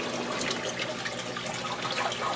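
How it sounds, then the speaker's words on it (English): Water pours steadily from a standpipe into a fish pond, a continuous close splashing and trickling with no voices. "So I got plenty of aeration for the fish and plenty of water movement all around."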